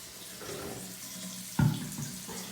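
Tap water runs steadily at a sink while hair dye is rinsed out, with a brief closer splash partway through.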